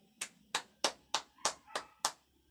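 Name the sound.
class clapping hands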